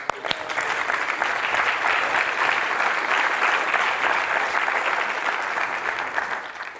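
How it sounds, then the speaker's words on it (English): Conference audience applauding a session, a thick, sustained round of clapping from many hands in a hall, steady and full throughout with no talk over it, easing slightly at the end. "We can give them a clap"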